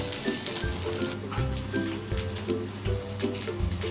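Paddu batter frying in a pan after being turned over, a steady close sizzle with soft crackling and a repeating low thumping pulse underneath, no talking.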